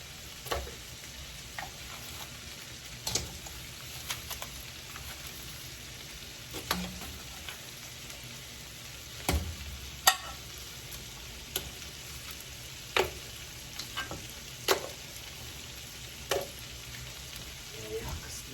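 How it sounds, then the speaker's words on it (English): Crab frying in a pot for garlic salt and pepper fried crab, a steady close sizzle and crackle running throughout with scattered sharper pops and stirring clicks. "And then I am going to add the crab back to this pot."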